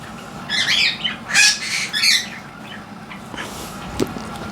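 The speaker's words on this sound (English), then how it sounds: "A lot of birds." Several loud squawks and chirps from a group of birds burst out close by over the first couple of seconds, then fade to softer scattered calls over a low background hum.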